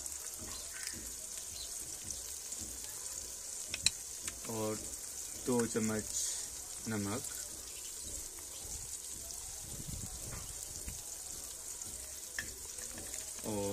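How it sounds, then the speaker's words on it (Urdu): Karahi masala spices, including red Kashmiri chili and turmeric, sizzle and fry in a pan while being stirred, a steady crackling hiss with scraping stir strokes, under a voice talking. "تو ان کو اب ہم زیادہ بھون لیں گے"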